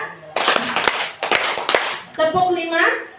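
Hand clapping in a short rhythmic burst of several sharp claps, close and fairly loud, followed by a speaking voice.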